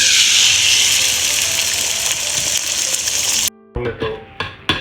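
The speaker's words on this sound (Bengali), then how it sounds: "এর মধ্যে আমি ডিমটা ভেজে ফেলি।" Egg frying in a hot pan, a loud, bright continuous sizzle that cuts off abruptly, followed by a few short clinks and scrapes.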